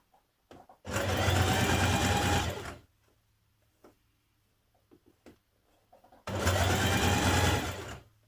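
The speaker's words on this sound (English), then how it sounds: "Turn the binding to the inside and stitch it down." A sewing machine stitches bias binding down on a Simplicity 9122 dress in two loud, steady runs of about two seconds each, separated by quiet handling of the fabric, close up with no voices.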